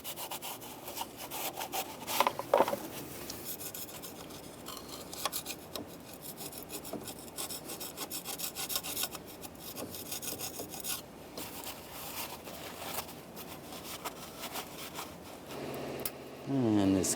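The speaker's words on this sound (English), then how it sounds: "Just clean up any of the area where the gasket was. You can use a scraper if there's some thick material." Old gasket material is scraped off an exhaust manifold on a 2011-2015 Chevrolet Cruze, giving quiet, uneven rasping strokes with a few sharper clinks, all fairly faint and close.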